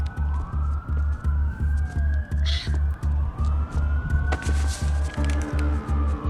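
A police siren wails with rising and falling tones behind a steady low thumping beat, moderately distant and mixed into a drama's soundtrack.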